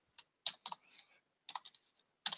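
Quick bursts of keys tapped on a computer keyboard, close and quiet, in three short clusters separated by brief pauses.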